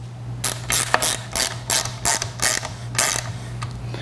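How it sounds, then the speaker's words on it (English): A 4 mm hex key turns bolts into a fiberglass handle pole mount, giving a close series of rhythmic ratcheting clicks and creaks over a low steady hum, with no talking. "Now I'm going to take my 4mm and start these other 2 bolts."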